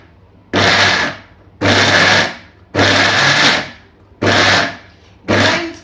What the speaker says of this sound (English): So we are going to pause blend